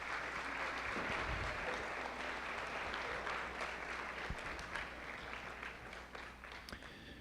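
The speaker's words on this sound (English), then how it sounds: "let's give them a warm round of applause" Sustained crowd applause, dense and steady from start to finish, gradually easing slightly toward the end with a few sharper individual claps.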